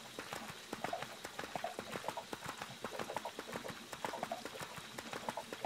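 Rhythmic clip-clop of horse hooves trotting steadily in the video game EverQuest II, close and clear, in an even repeating beat with no voices.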